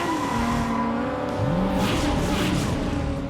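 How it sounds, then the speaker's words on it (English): Cartoon race car speeding up during a race, with a steady loud engine roar whose pitch sweeps upward and bends as it accelerates, along with tire squeal and no talking. "Wait, it looks like Meteor Fire is speeding up"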